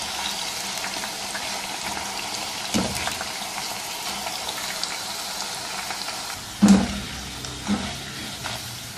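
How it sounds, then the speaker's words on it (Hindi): Homemade potato chips (aloo wafers) fry in a pan of hot oil, stirred with a steel spoon: a steady, close bubbling hiss with a few sharp knocks along the way. "ये देखिए, चिप्स फ्राई हो चुके हैं।"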